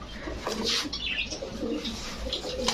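Kaldom pigeons cooing close by, several soft, repeated coos with light chirps and a brief flutter of wings, no voices.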